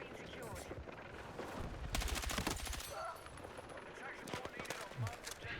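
Gunfire in Battlefield 6 on the Iberian Offensive map in Conquest mode, a short rapid burst of automatic shots with scattered distant pops and someone talking over the action.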